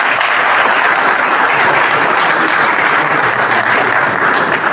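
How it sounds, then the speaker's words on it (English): An audience applauds at the opening ceremony of an international engineering and earth science conference, a steady, dense clapping that stays loud and continuous from start to finish. "A round of applause."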